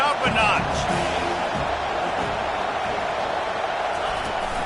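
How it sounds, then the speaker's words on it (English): A college football stadium crowd roars steadily on second down, a dense wall of cheering and noise with a commentator talking over it. "Here comes second down, and this crowd is turning it up a notch"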